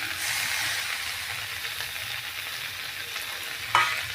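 Chopped tomatoes fry in a hot pan with a loud, continuous hissing sizzle, close up, followed near the end by a brief clack of a utensil against the pan.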